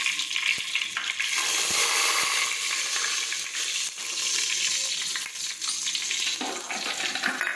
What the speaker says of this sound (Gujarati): હવે આપણે તેમાં રાઈ અને જીરું નાખી દઈશું, હિંગ નાખીશું